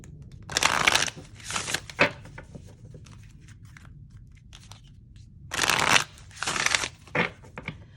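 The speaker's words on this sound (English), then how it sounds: "they shuffle pretty easily" A deck of oracle cards being shuffled in two bursts of riffling and papery slapping, separated by a few seconds of near silence.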